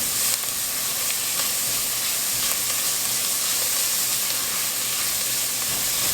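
Spices cooking in a hot pan as the base of a homestyle tomato soup, a steady, loud, close sizzle and hiss that holds evenly for several seconds with no talking.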